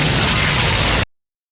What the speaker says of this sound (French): Gosho Aoyama adore les explosions